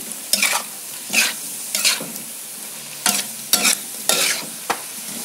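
Pumpkin stir-fry with sesame oil crackles faintly in a pan, with six sharp spatula strokes in uneven bursts, close-up and with no talking.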